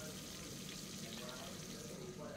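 Fish fries in a pan with a steady, quiet sizzle that holds evenly throughout, with no talk.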